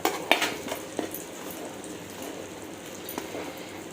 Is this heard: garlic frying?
yes